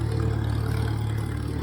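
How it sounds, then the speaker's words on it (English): A farm tractor engine runs steadily nearby with a low, even rumble and faint clatter, with no voices over it. "it's amazing how much better this tractor runs"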